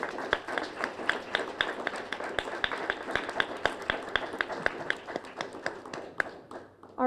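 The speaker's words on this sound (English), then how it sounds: "let's please give a warm round of applause for Kaylee Nikish for Golden Hearts Turn Silver" A seated audience at a writing awards ceremony gives a warm round of applause for an honoree, a steady, moderately distant patter of many hands clapping that thins out near the end.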